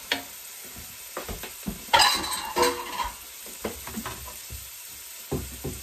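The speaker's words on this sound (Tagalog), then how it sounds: "lulutuin po natin siya ng different pan" Ground beef sizzles and fries in a pan, with a utensil stirring and scraping through it and a few metal clinks against the pan.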